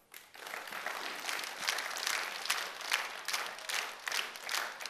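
An audience claps for a women's folk singing group from Chong-Alai on a competition stage, a dense continuous wash of applause from a sizeable crowd swelling and holding for several seconds.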